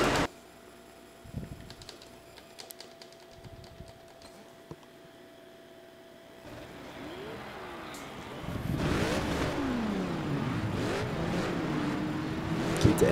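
A GT3 race car in the Project CARS racing game at Azure Coast: quiet at first, then the engine revs swell loud with rising and falling sweeps and sustained high-rpm roar through the final seconds.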